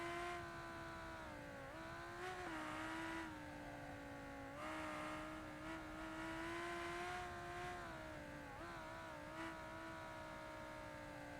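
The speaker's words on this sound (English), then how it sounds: "I'm just letting you guys appreciate the sound of this car." A supercar engine in the driving game BeamNG drones steadily as it runs on a track, rising and dipping in pitch through several gear shifts and revs, with no talk over it.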